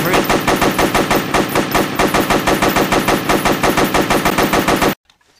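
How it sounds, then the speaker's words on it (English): A PM 1910 machine gun fires in the World War shooter game Entrenched: one loud, sustained stream of rapid, evenly spaced shots that stops abruptly into near silence. "This is APM 1910, used by Russia in both World Wars until 1943."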